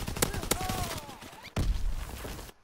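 Gunfire from an overpowered weapon in Call of Duty WW2 rings out as loud sharp shots, a quick pair and then a heavier blast, while someone talks over them.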